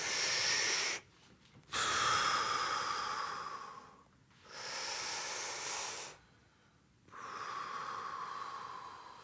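Slow, deliberate deep belly breaths during a breathing exercise, each long hissing breath near and clear, with three short silent pauses separating four extended breaths.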